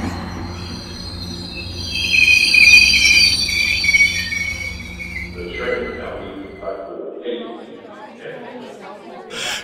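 A train on the Eastern Bengal Railway line runs on rails with a loud rumble and a high wheel squeal that builds, then fades into scattered clatter while a voice talks over it.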